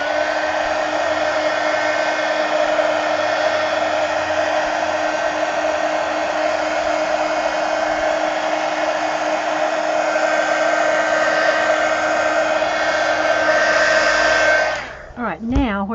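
Hair dryer blowing steadily to dry paint on a mixed-media decorated pumpkin, a loud, close, continuous whine and rush lasting about fifteen seconds before cutting off at the end.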